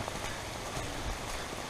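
Steady rain falls, likely pattering on an umbrella outdoors near a lake in lush green surroundings; a constant, even wash of drops with no voices.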